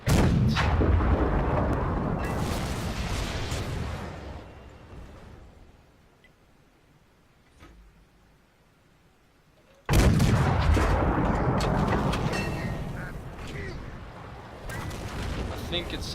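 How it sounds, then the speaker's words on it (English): A tank gun firing in World of Tanks with realistic gun sound mode, booming loud and close with a long rumbling decay, silence, then a second heavy blast; a voice talks faintly. "When I'm firing with the realistic gun sound mode, it nearly blows my brains out"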